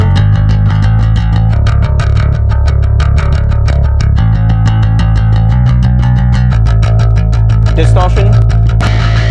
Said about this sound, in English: Clean tone.